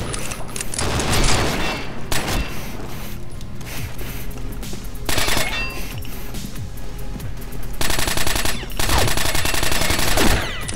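Loud gunfire from the video game mode Arms Race, with rapid automatic bursts and sharp single shots in several clusters separated by short gaps.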